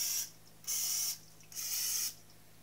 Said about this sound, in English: thing I'm doing is spraying my muffin tin with Quinoa baking spray